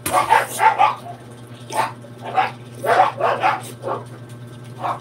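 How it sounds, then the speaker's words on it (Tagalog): Several dogs bark in repeated sharp bursts across the whole stretch, fairly close and loud, with short gaps between the barks. "maingay yung mga aso ko."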